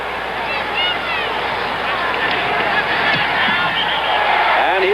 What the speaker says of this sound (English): he gets a cheer from the crowd because they know well how difficult it has been